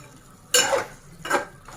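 Cucumber and tomato softening in a pan for a Telugu chutney are stirred twice, giving two short scraping, clattering bursts of a spoon against the pan, close and fairly loud, with quiet gaps between.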